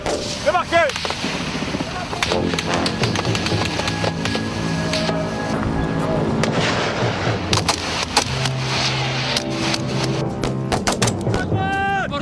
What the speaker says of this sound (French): Tire à droite. À l'avant, on tire.